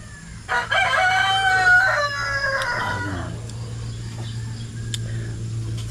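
Rooster crowing near a camp in the morning, one loud drawn-out cock-a-doodle-doo followed by a quieter tail, with faint clucking from other chickens over a low steady hum.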